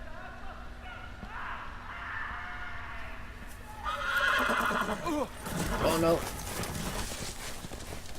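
A horse in the Game of Thrones video game gives a loud, shrill whinny in the middle, with hoofbeats and background game sounds around it, while a player voice exclaims briefly.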